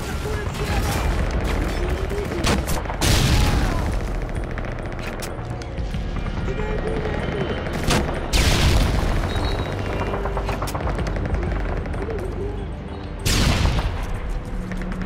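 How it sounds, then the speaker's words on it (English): Grenade launches and gunfire in Call of Duty: Modern Warfare 3 Special Ops, with heavy booming blasts every few seconds over continuous rattling automatic fire and battle noise, loud and close, with voices talking throughout. "Launch grenades to the corners of the intersection."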